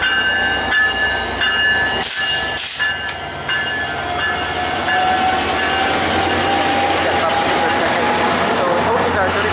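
CN and VIA Rail locomotives rolling past a station platform in Woodstock, a steady loud rumble and rail clatter with a brief horn, continuing throughout with no talk.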